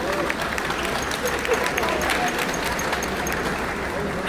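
A large audience of cruise passengers at a shipboard event claps for the first-time cruisers, a dense, even roar of applause filling the whole stretch without a break.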